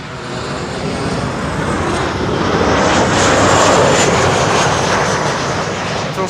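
A Transavia Boeing 737 lands at Schiphol on the Kaagbaan runway, its jet engines a loud, close, broadband roar that swells to a peak midway and then eases slightly as it passes.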